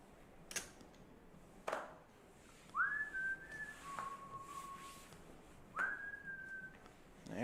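A man whistles at a live poker tournament table, a few short rising and sliding tones spaced apart over quiet room noise, with light clicks of chips or cards between.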